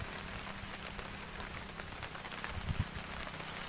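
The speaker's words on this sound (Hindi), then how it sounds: "पूरा बाहर में बारिश दिखाई दे रहा है" Rain falling outside, a soft steady hiss of drops on surfaces heard from a distance, faint and continuous with no voices.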